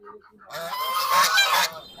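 Chinese geese honk loudly and close by in a dense overlapping chorus of harsh calls that rise after a soft start and carry on for about a second and a half.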